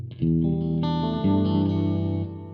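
A few sustained guitar chords ring out through a tape delay pedal, trailing echoes blending into a warm, lingering tail, fairly close and moderately loud.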